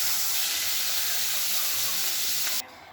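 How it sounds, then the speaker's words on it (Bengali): Koi fish frying in hot oil in a wok, a steady bright sizzle and hiss that runs continuously, close up, then cuts off abruptly near the end. "এবার মাছগুলো ভাজছি।"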